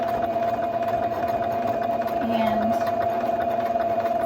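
A sewing machine runs continuously while stitching a seam along the opening of a fabric mask, a steady mechanical whir with a humming tone, heard close under a person talking.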